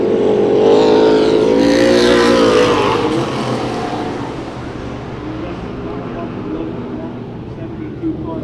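West Coast Pro Stock race cars roar past at Santa Maria Raceway during a heat race, a loud engine drone that swells and then fades into the distance, under an announcer talking over the track.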